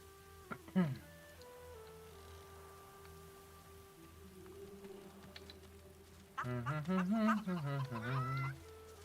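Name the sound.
chickens clucking in video game Divinity: Original Sin 2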